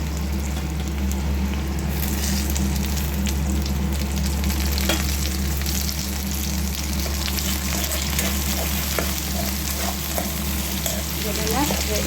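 Tomatoes fry in a pan for vangi bath, giving a steady, close sizzle that runs unbroken throughout, with a few light stirring scrapes near the end and no voices.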